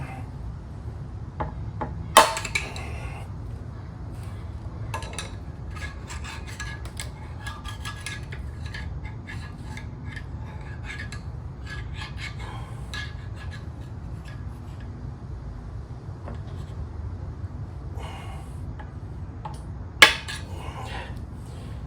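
A Honda NC700X motorcycle wheel bearing is carefully driven out with a hammer, heard as two sharp metallic blows far apart amid quiet tool clinks and shuffling.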